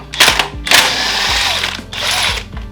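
A thick 19 mm socket on a power tool loosens a bolt on a Honda K-series engine, with loud close bursts of high-pitched whirring and rattling impact in several pulses.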